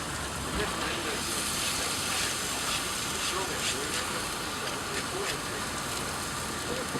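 Mixed vegetables hiss and sizzle steadily in a hot pan while summer vegetable fried rice cooks, a dense continuous frying noise with faint clatter, under a speaking voice.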